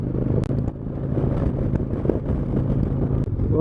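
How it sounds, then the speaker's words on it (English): Wind buffeting a microphone outdoors on a hilltop during a sun tour drive, a loud low rumbling roar with gusty swells and a few sharp knocks, no talking. "A little windy here. Got wind coming from all directions."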